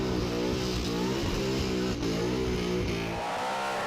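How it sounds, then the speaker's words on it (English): A loud burnout car with an injector hat, running methanol, roars at a burnout competition with a harsh, harmonic engine note held at high revs, dipping briefly partway through and easing near the end. "This is one of the louder cars that we have doing the Summernats circuit wherever we go around the country."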